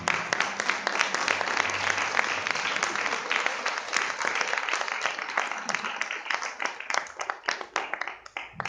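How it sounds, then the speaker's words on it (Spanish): A church congregation claps together in a long, even burst of applause that thins out and trails off near the end. "Den una ofrenda de palmas al Señor."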